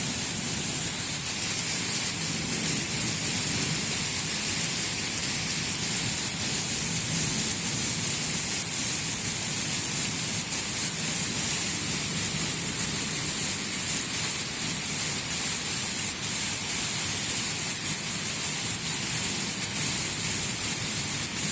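Heavy stormy rain pours fast over Chak 45 SB near Sargodha, a steady, dense hiss of downpour that holds at an even loudness throughout with no voices.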